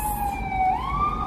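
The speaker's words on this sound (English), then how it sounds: "Another ambulance going up this street." An ambulance siren sounds on a New York City street in Hell's Kitchen, a loud, steady wail whose pitch rises partway through over constant traffic rumble.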